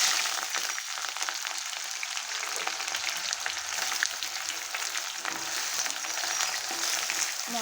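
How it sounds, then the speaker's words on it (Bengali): Chopped onions fry in hot oil with cardamom, cloves, dried chilli and bay leaf for a mutton curry, giving a continuous close, bright sizzle with crackling pops throughout, without talk. "মটন কষার জন্য আগে আমি পেঁয়াজটা লাল করে ভেজে নেব।"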